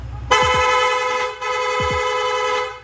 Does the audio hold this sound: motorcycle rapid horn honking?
yes